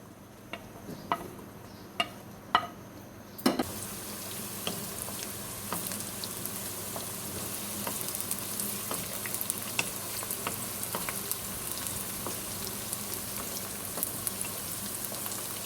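Roughly cut medium onions fry in hot oil, a few clacks at the start giving way to a dense, even sizzle that holds steady throughout, with no speech.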